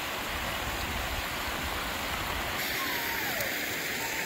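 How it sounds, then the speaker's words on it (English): A mountain stream flows in a steady, dense rush of water close by, filling the whole moment with an even broadband hiss and no pauses or voices. "it's so calming listening to that water"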